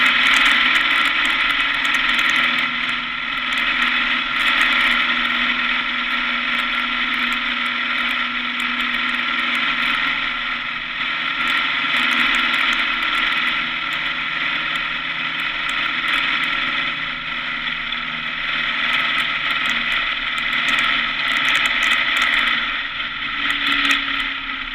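A small airplane engine drones steadily and loudly in flight on approach to a rural grass strip, a constant buzzing hum with slight waver in pitch and no talking.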